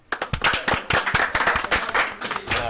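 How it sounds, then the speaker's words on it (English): A few people clap in a brief, uneven burst of sharp hand claps to thank the commentators at the close of a sim racing stream, fairly close and without talk. "give a round of applause to my fellow commentators"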